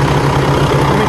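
The engine of a 2014 Kenworth T-680 truck idles nearby, a loud steady low rumble with a throbbing pulse through the whole brief stretch, with no talk.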